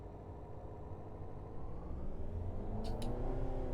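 Engine of a car in the City Driver video game, its steady rumble building as it pulls away in first gear, with a brief higher-pitched tone near the end.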